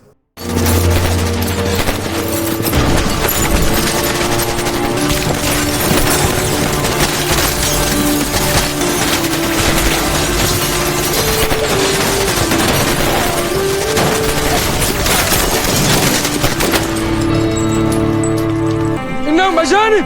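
Gunfire in a dramatized true-story scene, loud and dense across the whole stretch, with sustained crackling bursts and booms layered over a dramatic soundtrack, easing only briefly near the end.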